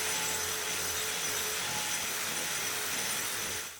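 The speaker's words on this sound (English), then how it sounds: "Andy took his 9-inch angle grinder and went around the edges to get the parts that the big planetary grinder couldn't quite reach" A 9-inch angle grinder works along the edges of an 80-year-old concrete floor, giving a steady, continuous high-pitched whine and gritty hiss at moderate distance, uninterrupted throughout and fading slightly at the end.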